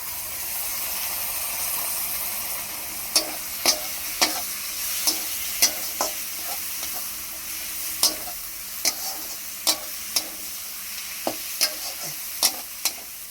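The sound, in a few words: chopped tomato stirred and frying with spices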